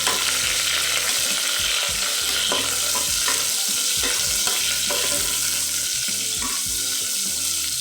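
Chopped onion hits hot oil already crackling with cumin and whole spices for a festive spiced rice dish, giving a steady loud sizzle broken by scraping stir strokes throughout, with no talking.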